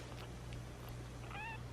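A cat gives a single short meow near the end, close by, over a steady low hum and background noise.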